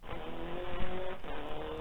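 Crash and skid effects from the World Rally arcade game board: a harsh, band-limited burst of gritty noise with a tonal engine whine underneath, loud and continuous throughout, with no voices.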